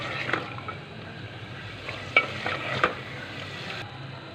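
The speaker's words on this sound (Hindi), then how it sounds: "चिकन को हम 5 से 7 मिनट के लिए फ्राई कर लेंगे।" Chicken pieces frying in a pan for chicken karahi biryani, added after tomatoes: a steady close, moderate sizzle with occasional stirring scrapes and clinks, no voices.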